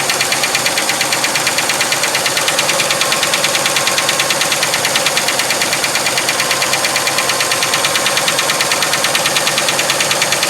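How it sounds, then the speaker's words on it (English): A 1970 Ford LTD Country Squire V8 that sat for years idles steadily with a rapid, even ticking of lifter noise over a loud, constant engine hum, close up and with no talking. "she's just sitting there idling"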